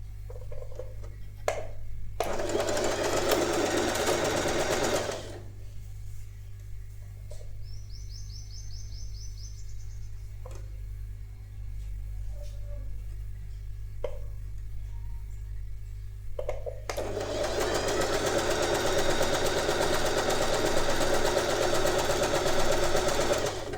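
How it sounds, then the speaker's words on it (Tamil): A sewing machine stitches a royal blue lehenga saree: two loud, steady whirring runs of stitching, the first brief and the second long, separated by a quieter stretch with a constant low hum and faint chirps. "இப்படி வச்சு ஸ்ட்ரைட்டாக ஸ்டிச் பண்ணிக்கோங்க."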